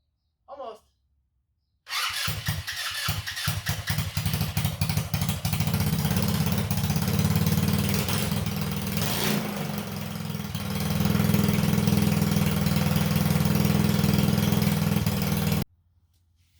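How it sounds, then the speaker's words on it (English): GY6 scooter engine swapped into a Kandi go-kart: a brief cranking burst, then the engine catches and runs loud and steady for over ten seconds at a fairly fast idle, rising slightly in pitch before cutting off abruptly. "so we got the motor in and all hooked up. We're going to try to start it now, see if it runs"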